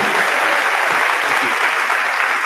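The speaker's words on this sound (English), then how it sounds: "We give them a round of applause." An audience at a high school commencement ceremony applauds the chorus, a dense, uniform wash of clapping that is loud and continuous from start to finish.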